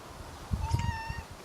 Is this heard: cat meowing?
yes